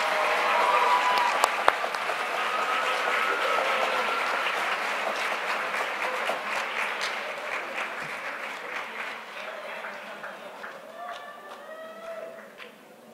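Steady crowd applause for Masters in Clinical Psychology graduates at Antioch University Santa Barbara's 2017 commencement, dense clapping sustained for the whole stretch and thinning slightly toward the end.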